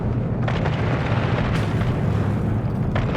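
Ship weapons firing in EVE Online during a space fight, a dense continuous rumble of booming blasts with sharper bursts punctuating it, loud and sustained.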